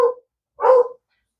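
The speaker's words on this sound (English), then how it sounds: "Excuse the dogs barking." Dogs bark at neighboring dogs, two short sharp barks about half a second apart, close and loud, with silence between and after.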